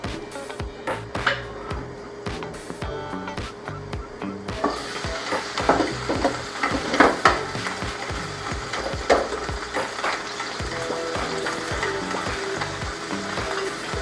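Vegetables for a Thai tofu curry sauté in a hot pan, giving a close crackling sizzle broken by repeated scraping and stirring knocks of a utensil, growing busier midway.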